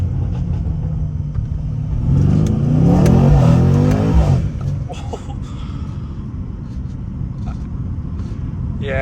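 A stage 2 tuned Mercedes C63 with traction control off revs hard from inside the cabin, a loud swelling engine roar that peaks and then drops back to a lower rumble.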